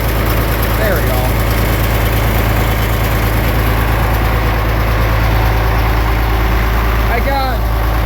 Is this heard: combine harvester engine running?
yes